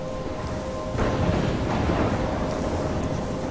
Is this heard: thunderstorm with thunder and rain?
yes